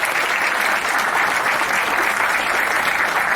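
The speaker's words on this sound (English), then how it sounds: "A big round of applause," Steady, dense applause from an audience at a film trailer launch event, loud and continuous throughout with no pauses.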